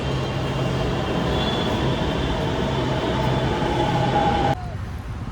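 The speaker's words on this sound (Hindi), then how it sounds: "मेट्रो आ गई भाई मेट्रो।" Inside a moving metro train, a loud, steady rumble of wheels and carriage runs with a faint whine overhead, then drops abruptly to a quieter hum near the end.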